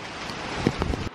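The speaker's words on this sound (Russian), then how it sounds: "Ветер поднялся, какой дождь сильный." Strong wind with heavy rain, a continuous broadband rush with gusty buffeting against the microphone and a few brief thumps near the end.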